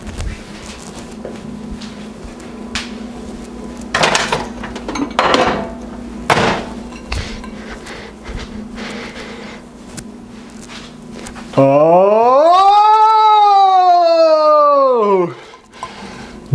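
Clattering and knocking of dishes being handled, scattered bangs at irregular intervals, followed by a loud rising and falling whine; a brief exclamation is heard.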